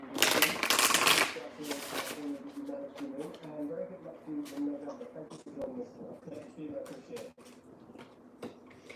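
Tarot cards shuffled by hand, a burst of crisp riffling up front followed by softer sliding and tapping of the deck under a speaking voice.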